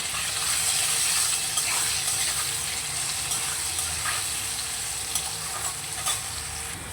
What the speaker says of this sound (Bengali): এবার আলুটাকে একটু ভাজা ভাজা করে নেব।